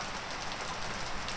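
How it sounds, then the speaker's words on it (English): Steady rain splashes and patters densely on a hard surface, a constant even wash of droplets with no voices, as Unreal Engine 5 game audio of rain coming off a building. "splashing of the rain coming off of this."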